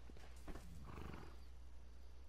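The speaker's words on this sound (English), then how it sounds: "I make sure your horse follows you because they're stubborn." A horse in the Red Dead Online video game snorts and clip-clops near the player, a short burst of hooves and breathy horse sounds over a steady low background hum.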